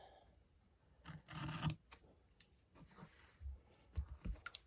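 Scissors snip through fabric binding for a pleated facemask in a few short, crisp cuts and rustles, quiet and close.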